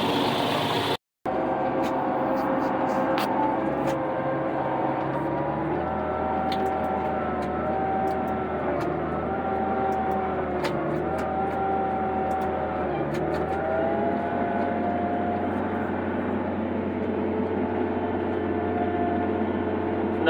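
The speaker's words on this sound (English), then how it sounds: "Nothing like the bellow of a big old kitty cat engine." A big Caterpillar diesel tractor engine drones steadily and heavily, a low rumbling bellow with shifting tones as it works, close and continuous throughout.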